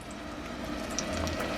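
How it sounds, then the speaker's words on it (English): Fried dumplings, Johnny cakes, bubble and sizzle in a pot of hot oil, a steady close hiss with faint crackles throughout. "you see, it's bubbling, tell us that it's ready"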